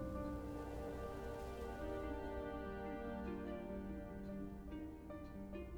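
Steady rain falls in the video game Rainswept, a dense, even hiss of drops pattering on surfaces throughout, with a faint tonal music bed underneath and a few sharper drips near the end.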